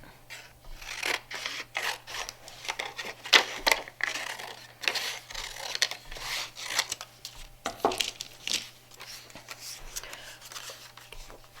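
Scissors cut out a paper craft shape for a winter bird and tree picture, producing repeated close, soft snips and paper rustling in an uneven rhythm with no talking.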